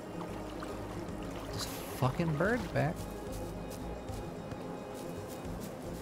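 A steady rushing waterfall in the Bugsnax video game pours continuously in the background while someone talks over it.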